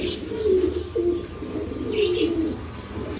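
Two female Budapest pigeons coo in low, repeated throaty phrases close at hand, with a few brief higher chirps between the calls.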